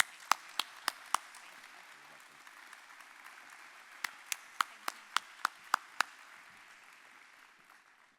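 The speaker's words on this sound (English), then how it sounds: "Let's give her a round of applause." Scattered handclaps sound at a state association convention: a short burst of four sharp claps, a pause, then about eight more crisp, evenly spaced claps, fairly faint against a quiet room.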